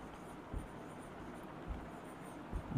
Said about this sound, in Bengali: এখানে আমি একটা নতুন লিখছি, দেখো।